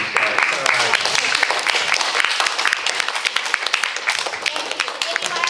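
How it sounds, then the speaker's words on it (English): Audience applause for a youth panel at a college-preparation event, a dense, steady patter of many hands clapping close by for several seconds, with a few voices mixed in underneath. "round of applause for these guys"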